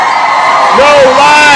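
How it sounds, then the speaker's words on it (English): A loud crowd at a live event cheers, whoops and yells, with a rising shout standing out near the middle. The noise stays dense and close throughout the short burst. "Let's give him a round of applause"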